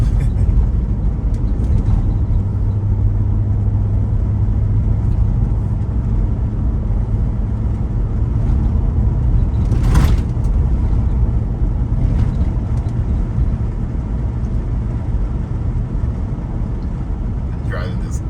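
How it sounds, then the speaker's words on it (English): A Nissan Armada SUV rolls along back roads in Washington County, Oklahoma, its steady low engine and road rumble filling the cabin throughout with a constant wind-buffeted drone and a brief louder thump midway. "Been driving this gas hog lately. Our new ride. It's a Nissan Armada."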